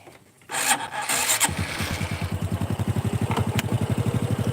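A motorcycle engine fires up abruptly and settles into a close, steady idle of rapid, even putting pulses while the idle speed screw is adjusted, with no talking over it.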